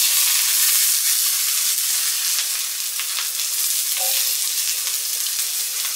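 Spring onions sizzle and hiss continuously in a non-stick wok with little oil, a loud, close, steady frying sound with brief spatters.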